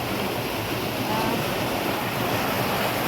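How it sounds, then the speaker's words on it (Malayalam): Floodwater rushes with great force during monsoon rains, making a steady, close, full-bodied roar with a hiss of wind noise. The sound runs continuously without pauses. "നല്ല ശക്തിയിലാണ് വെള്ളം പോയിരിക്കുന്നത്"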